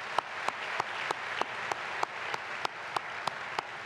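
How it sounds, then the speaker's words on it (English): An orientation audience applauds in a large hall, giving a diffuse, steady wash of clapping with a few sharp, regularly spaced claps standing out close by. "Let's give them another round of applause."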